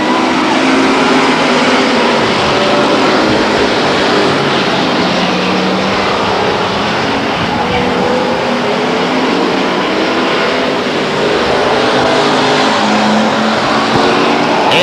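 Race cars roar around the Stockton 99 Speedway oval, a continuous loud, dense wash of engine noise with overlapping cars passing close throughout.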